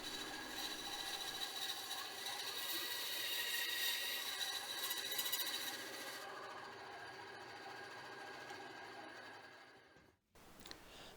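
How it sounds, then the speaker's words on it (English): A bandsaw trimming excess wood off a hammer handle, a steady humming whine with a brighter cutting tone over the first six seconds, then running on more quietly before a brief dip and a restart. "Now I can simply trim off the excess using the bandsaw."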